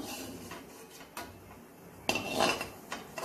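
Metal utensil clinks and scrapes against a pan while fried cashews and raisins are scooped out for a sweet poha snack; quiet, close, irregular taps with a couple of sharper scrapes.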